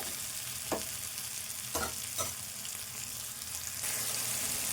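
Dried fish fried in a pan with brinjal curry, stirred with a few distinct scraping knocks of the spoon over a steady close sizzle.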